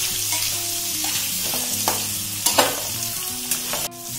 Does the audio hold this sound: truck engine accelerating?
no